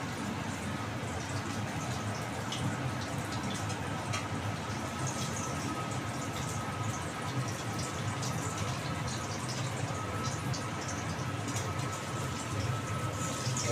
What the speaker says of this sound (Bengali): এই দেখো বন্ধুরা, এখন ইলিশ মাছ ভাজা হচ্ছে